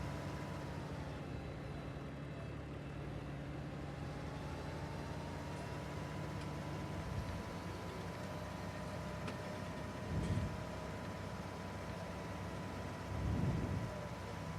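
A tractor engine in the farming video game Farming Simulator 19 drones steadily and low throughout, with no talk, and the hum swells briefly twice near the end.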